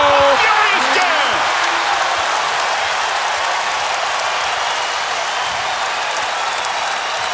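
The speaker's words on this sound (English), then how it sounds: "The crowd excited about that dunk." A college basketball crowd in the arena at Providence vs. Marquette roars after a dunk, a loud, dense, sustained wall of cheering and applause that holds steady throughout, with a brief voice near the start.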